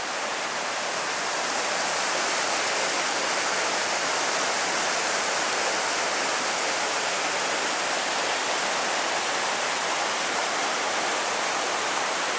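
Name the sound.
roaring creek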